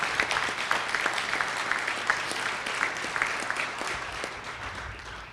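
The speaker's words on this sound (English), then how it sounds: "if you could please give them a quick round of applause" Steady applause from an audience at a hall of fame induction ceremony, many hands clapping evenly for several seconds at moderate loudness with no voices over it.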